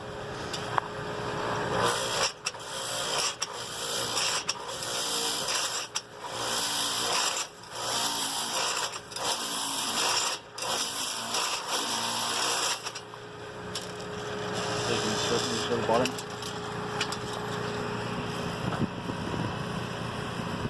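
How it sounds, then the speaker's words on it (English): A power drill bores into the base of a cut Christmas tree trunk at a tree farm, a loud steady whirring grind with short pauses and restarts throughout. "we'll use the drill to drill a hole in the bottom of them"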